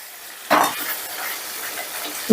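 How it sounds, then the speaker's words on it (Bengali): Masala paste with cashews being sautéed and stirred in a kadai, a soft sizzle with a sharp scrape of the spatula against the pan at the start and again at the end. "এবার এই মশলাটা দিয়েও বেশ ভালো করে কষে নেব"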